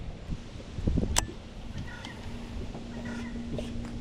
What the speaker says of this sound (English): Sounded like that bird just said, "Oh my God."